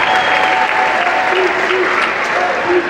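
A packed high school gym crowd applauds as basketball players head to the bench late in a boys' game, sustained clapping and crowd noise with faint tonal sounds from the arena mixed in.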